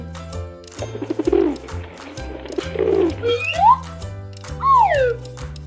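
A pigeon coos in a series of soft, low calls, with a few louder rising and falling notes near the end, heard clearly against a quiet background.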